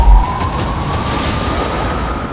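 A missile flies overhead with a steady, rushing roar and a faint high whine, heard without break from a distance at moderate loudness.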